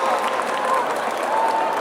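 Applause from a crowd at an award ceremony for a K-pop cover dance festival in Thailand, a brief steady burst of clapping with a faint voice or tone drifting over it.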